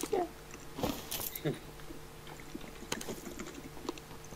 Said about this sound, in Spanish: hasta aquí se escucha el teclado